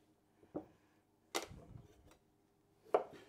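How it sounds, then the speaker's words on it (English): Carrot being chopped on a board for a stir fry, three separate knife chops spaced about a second apart, quiet and close with a short knock after the second. "Let's do some carrot for the stir fry."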